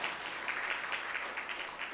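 A church congregation applauding to welcome a guest during a Sunday morning service, a soft, steady patter of many hands clapping heard from a distance with no voices over it.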